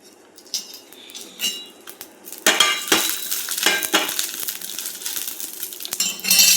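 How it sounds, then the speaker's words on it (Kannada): Food frying in a pan, a soft sizzle broken by close scraping and clinking of a utensil against the pan, growing busier and louder in the second half, with no talking. "ಇದು ಫ್ರೈ ಆಗ್ತಾ ಬಂತು"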